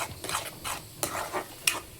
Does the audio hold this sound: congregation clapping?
no